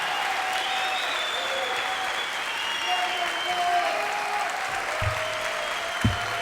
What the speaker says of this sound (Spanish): un gran aplauso para Jake Bowen